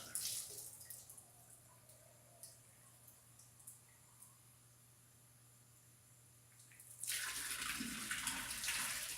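A tap runs in a workshop, its faint, steady stream of water turning to a louder, fuller rush toward the end.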